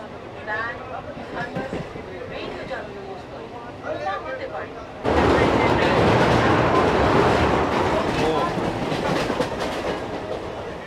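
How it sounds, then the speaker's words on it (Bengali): Local train on the Barddhaman–Howrah chord line running fast after leaving a station; steady loud rumble and clatter that jumps sharply louder midway, with a voice talking faintly over the first half. "5 মিনিটের মধ্যে ট্রেন স্টেশন থেকে বেরিয়ে বেশ গতি নিয়ে নিয়েছে"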